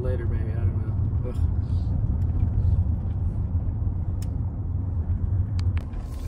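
Car driving through Moscow rush hour traffic, a steady low engine and road rumble from inside the vehicle with faint passing traffic sounds, while a person talks over it.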